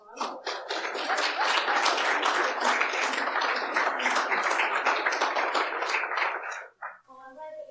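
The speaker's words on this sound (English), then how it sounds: "I'm glad that you all clapped" Audience clapping at a talk about midwifery in Papua New Guinea, a dense round of applause from many hands that swells and holds for several seconds before stopping abruptly as a voice begins to speak.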